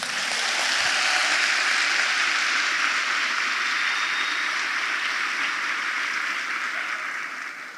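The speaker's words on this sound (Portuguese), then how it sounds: "uma grande salva de palmas, primeiramente, a vocês" An audience at the opening of a lecture by Dr. Augusto Cury gives sustained, dense applause that stays loud and even throughout before easing slightly at the end.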